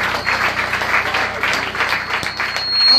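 A church congregation claps steadily throughout, a continuous dense applause with a faint rhythmic pulse, fairly close and loud, with no voices standing out.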